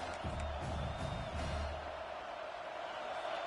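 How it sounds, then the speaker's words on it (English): Stadium crowd at a college football game, South Carolina versus LSU, a broad steady roar of cheering with scattered whoops, loud and continuous throughout, with a commentator's voice briefly audible over it. "this crowd coming to life here, trying to help the defense get a stop with the offense pinned back"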